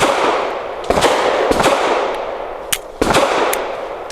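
Pistol gunshots from a Bersa TPR 380 Plus firing 380 ammo at a public outdoor shooting range: several sharp, loud cracks spaced irregularly over a steady background hiss, with no talking.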